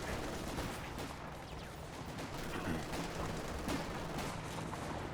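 Anti-tank gun firing at a Panzer IV in Company of Heroes 2, heard as dense, continuous battle noise with booming shots and crackling gunfire blending into a steady roar, no talk.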